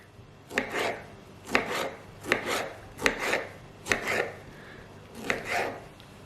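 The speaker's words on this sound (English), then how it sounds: "And then we're going to add the tomato. So I'm just going to chop that." Knife chopping a tomato on a board, six distinct crisp thuds at an uneven, unhurried pace, close and moderately loud with no talk.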